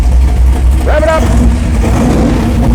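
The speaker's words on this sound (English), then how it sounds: "Rev it up." Hot rod car engine revving at a hot rod gathering, a deep rumbling throb with a rising rev swell near the middle, loud and close, while voices talk over it.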